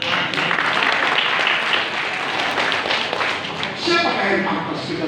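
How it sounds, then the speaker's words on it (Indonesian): A crowd at a political gathering claps in a dense, steady burst of applause that rises slightly near the end, with voices mixed in. "Tepuk tangan."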